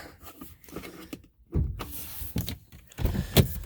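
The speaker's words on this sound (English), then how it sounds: "If you can, open your windows, all four of them, just in case you lock yourself out." Power windows on a 2012-2015 Honda Civic whir and thump close by in short bursts, with a few mechanical clunks between the motor runs.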